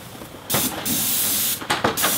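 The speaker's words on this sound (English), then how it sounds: "using a cardboard shield to limit the overspray coming out when you're actually spraying a soffit" An airless paint sprayer hisses loudly while spraying a soffit behind a cardboard shield, a steady broad spray that runs for about a second, drops off briefly, then resumes in short bursts near the end.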